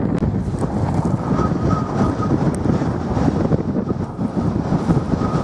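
Wind buffets a microphone outdoors in an open Norfolk field during metal detecting, a loud, steady low rumble with gusty swells throughout and no voices.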